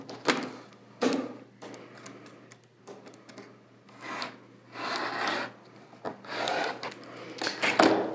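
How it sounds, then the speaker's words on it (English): Rotary cutter trimming quilt fabric along a ruler, a series of rasping, scraping strokes in uneven bursts, close and moderately quiet, with no voices. "we're going to trim right on that 1/4 inch dotted line"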